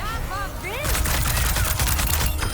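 Freja's crossbow primary fire in Overwatch: rapid, sharp bolt shots crackle in a quick burst over busy game effects and chiming sounds, loud and close, with a voice talking underneath.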